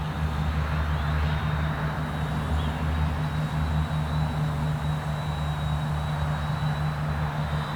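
Fimi A3 drone flying and climbing outdoors, a steady droning motor hum with a thin high whine over it, constant and fairly loud with no talk.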